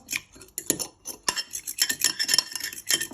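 A whisk or fork clatters rapidly against a bowl while eggs are beaten for a rocky road cake, giving quick, irregular metallic ticks and scrapes up close with no talk.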